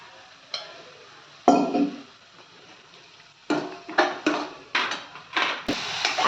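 A spatula scrapes and knocks through a pan of onion, chilli, capsicum and tomato for pav bhaji, with a few isolated clatters and then a quick run of repeated stirring strokes, close and alone.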